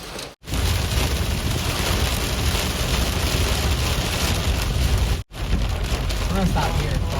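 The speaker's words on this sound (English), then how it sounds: "Oh, there's some hail." Hail falling in a storm makes a dense, loud, steady pelting roar on a surface, broken by two short gaps, with a voice briefly audible over it.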